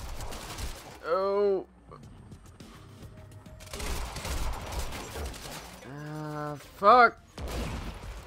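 Bursts of gunfire in the video game Quantum Break, crackling under a man's cursing and exclaiming, with loud clustered shots around the middle and a sharp burst near the end.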